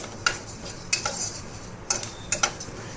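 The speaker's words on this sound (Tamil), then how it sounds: "இந்த மாதிரி இப்போ பாருங்கள் நல்லா பொரியிற சவுண்டு கேட்குதா" Flax seeds roasting in a pan give off a few sparse, light crackles and pops, close and quiet, with no voices.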